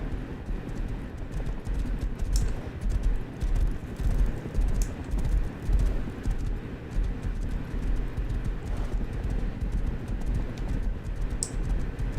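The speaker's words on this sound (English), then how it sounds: "We got a horse hanging out down here." Horse hooves clip-clop steadily in a video game, a continuous close rhythm of clattering steps under a low background rumble, with no voices.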